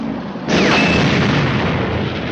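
A WWII tank gun fires a single round, a sudden close, loud boom that rings out and then settles into a sustained roar.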